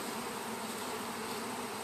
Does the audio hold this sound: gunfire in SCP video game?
no